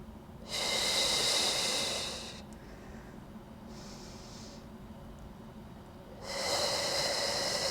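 Deep breaths during a yoga cool-down, close and clear: a long airy inhale, a softer quieter stretch of breath, then another strong breath near the end, with no talking.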